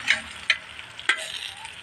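Fish frying in a small amount of oil, made without added water for a home-style fish fry, crackles with bright spitting pops over a low sizzle, close and uneven.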